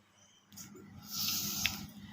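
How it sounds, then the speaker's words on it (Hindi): Rice and water are stirred together in a cooking pot, giving soft sloshing and swishing with a few light splashes, close by and moderately loud, with no talking. "यहाँ हम अपने चावल और पानी को अच्छा में मिक्स कर लेंगे।"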